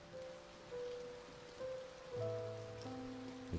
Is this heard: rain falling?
yes